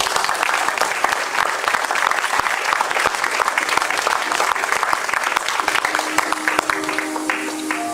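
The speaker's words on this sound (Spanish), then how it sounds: "Dale un aplauso al Señor." A church congregation claps loudly and steadily for several seconds, dense overlapping applause filling the room without pause.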